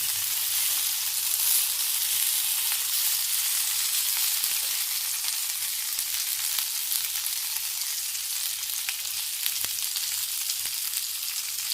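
Stuffed green chillies frying in a covered pan, giving a steady, dense sizzle that holds evenly throughout, close by and with no voices over it.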